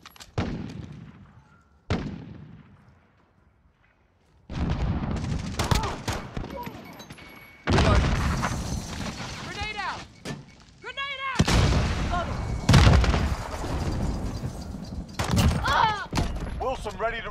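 Heavy explosions and gunfire from a cruise missile strike in Call of Duty: Modern Warfare, loud booming bursts and rattling shots in repeated blasts across the scene, with game voice callouts spoken between them.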